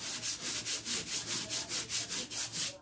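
Sandpaper is rubbed by hand over a vase made from a milk carton, giving about a dozen even, rhythmic scratchy strokes, close and steady.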